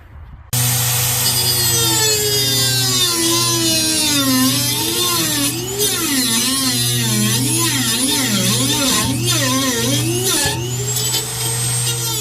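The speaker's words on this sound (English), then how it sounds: "I used my Dremel, cut 2 sides off of that sucker" A Dremel rotary tool cuts around a stripped screw on the bedliner of a 2005 Ford F-150, giving a loud, close, continuous high whine whose pitch rises and falls as the cutting load changes.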